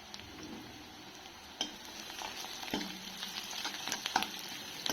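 Chopped garlic sautéing in oil for a simple tomato thokku, a steady close sizzle with scattered spoon-and-pan scrapes and a few sharper clinks, no voices.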